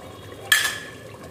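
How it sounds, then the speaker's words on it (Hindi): A metal spoon scrapes and clinks against a pot while masala for a mutton qorma is stirred and fried, one short bright scrape over a faint sizzling background. "ये देखिए इसको चलाते हुए भूनना है, नहीं नीचे से लगने लगेगा मसाला"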